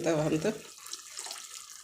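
Dissolved asafoetida and jaggery water is poured into a pan of tamarind chili side dish, a soft watery splash that follows a brief burst of speech and fades to a faint trickle.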